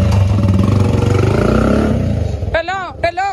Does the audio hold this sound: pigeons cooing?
no